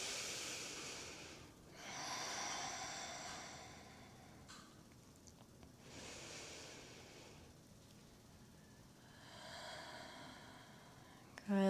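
Slow, soft breathing during a standing yoga flow, long hissy inhales and exhales in a steady cycle, faint and close with no talking, ending in a brief louder bump.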